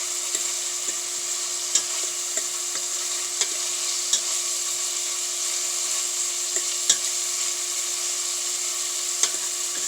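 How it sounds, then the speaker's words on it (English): Chopped celery, onion and garlic sauté over medium heat in a pan, a steady soft sizzle running throughout, punctuated by occasional light ticks and scrapes of a stirring utensil. "In case I didn't tell y'all what I'm sauteing down, it was 2 stalks of celery, it was 1 onion, and it was 2 cloves of garlic."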